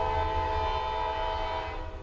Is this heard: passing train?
yes